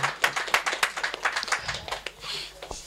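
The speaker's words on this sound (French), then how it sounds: "Acclamez, acclamez, acclamez." Quick, rhythmic hand clapping from a small group at a 25th wedding anniversary celebration, close and lively, a dense patter of claps that thins out toward the end.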